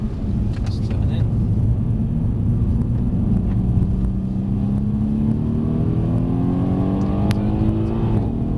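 A Mercedes C63 S engine accelerating on a circuit at a driving experience track, with a steady loud rumble and rising engine note climbing throughout, heard from inside the car under an instructor's talk.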